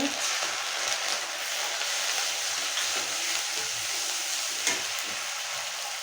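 Ginger paste, cumin, black pepper and green chili paste hit hot oil in a kadai, giving a steady crackling sizzle with occasional stirring scrapes, close and continuous, with no voices.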